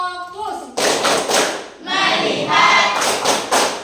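Classroom 'tepuk fokus' clap game: a burst of rhythmic group hand clapping follows a teacher's spoken cue, with the class chanting between close, loud clap groups.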